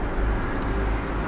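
An MPV driving along a road carries 300 kg of clay jars from Las Piñas to Batasan Hills, its steady low engine and road rumble filling the cabin without any voices.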